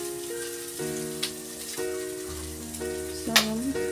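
Cooking oil frying in a pan in a home kitchen, a steady rain-like crackle and hiss with a faint hum beneath and a brief clatter near the end.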